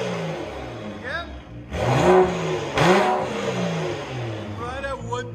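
A straight-piped 2012 BMW 335i with a 3.0L engine revs loudly up close, with two sharp rising blips over a rough idle and people talking around it.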